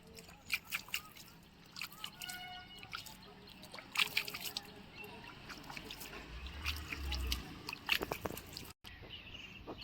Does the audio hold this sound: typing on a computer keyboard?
no